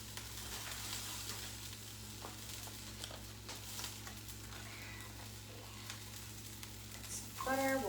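Butter and an egg frying in a pan, a low steady sizzle under a faint background hum, with some soft clatter and a brief voice near the end.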